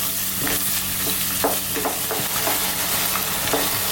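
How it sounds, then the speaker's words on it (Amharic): Onion and meat fry in a pan with a dense, continuous sizzle, while a utensil stirs through at irregular scraping intervals, loud and close. "ሽንኩርቴ ስጋዬ በደንብ እየተጠበሰ ነው"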